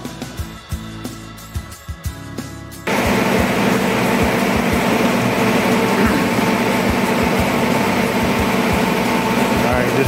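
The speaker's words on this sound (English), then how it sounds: "We're drying the rug. We've got tons of fans out." Many fans running to dry a cleaned, stained rug: after a few seconds of quieter knocking and handling, a loud, steady broadband whoosh starts abruptly and continues without pause, close by, with talk heard over it.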